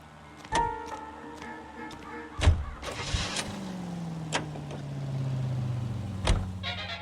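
A car engine starts in the LA Noire video game: a sharp crank and catch followed by a steady idling hum, with scattered mechanical clicks and thumps around it.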